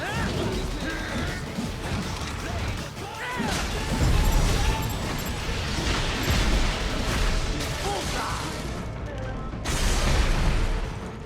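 Enemy blowing up in the Metal Gear Rising: Revengeance video game, a loud, dense burst of crashing impacts and booming blasts that surges around the midpoint and again near the end, layered over busy game action.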